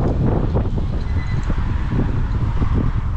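Strong, steady wind roars and buffets the microphone in Taiwan as a typhoon approaches, with clouds shrouding the nearby mountains; the loud, continuous rushing persists throughout with no speech.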